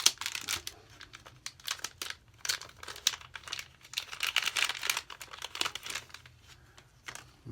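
A package of cigar box guitar parts is opened by hand, with continuous close crinkling and tearing of wrapping and packing material in irregular rustling bursts.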